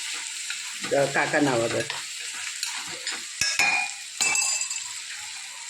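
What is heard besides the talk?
vadi being added and roasted in a pan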